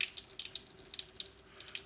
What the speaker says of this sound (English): what I'm going to do, put a little bit of water in there.